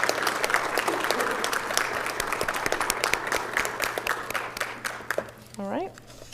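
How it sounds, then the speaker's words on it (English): A room at a mayor and council meeting gives a round of applause, steady clapping from a modest crowd that tapers off, followed by a voice starting to speak. "Let's give a great round of applause for National Public Safety Telecommunicators Week."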